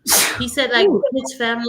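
A loud, close human sneeze bursts out at the start, followed right away by someone talking.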